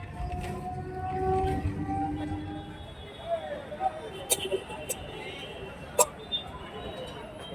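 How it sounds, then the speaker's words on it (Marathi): A commuter train pulls into a station, a low rumbling roar of wheels and carriages fading over the first few seconds, followed by scattered clanks and sharp metallic knocks at moderate distance. "पण ट्रेन एकदम टाईमवर आली."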